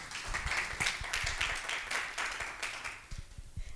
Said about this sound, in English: Clap her, no man. Clap her.